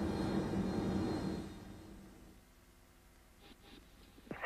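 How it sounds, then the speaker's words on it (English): Airbus A320 beginning its takeoff roll with engines at flex thrust, a loud broadband roar that fades over a couple of seconds, followed by brief faint clicks and a sharp sound at the end. "So we're starting our takeoff roll"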